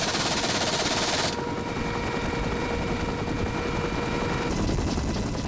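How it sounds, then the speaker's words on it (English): A half-inch caliber machine gun on a Lynx helicopter fires rapid bursts of rattling shots over the steady drone of rotors and engine. "It has recently acquired a new half-inch caliber machine gun for use against fast-moving craft."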